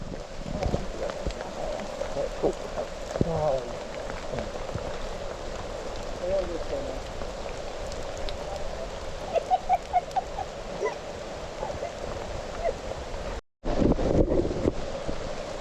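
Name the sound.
New River flowing below the Endless Wall trail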